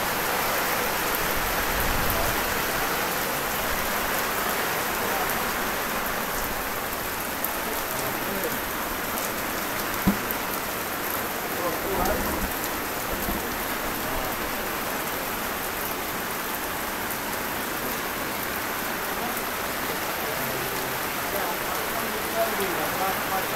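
Heavy rain pours down outdoors in Bangladesh as a dense, unbroken roar of drops hitting surfaces, steady and close throughout with only a faint bump or two, and no talk heard.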